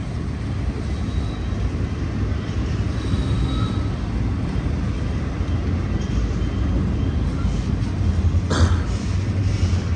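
A Union Pacific intermodal freight train, the ZG2OAB, passes in Oakland on the Coast Subdivision, a continuous heavy rumble and rolling clatter held loud and close for the whole stretch.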